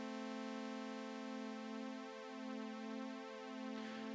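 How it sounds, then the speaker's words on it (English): A steady, buzzy synthesizer saw wave held for several seconds, its harmonics gently swirling and wavering in a slow shimmering chorus effect, with no voices. "What I'm going to do is I'm going to turn up the chorus effect."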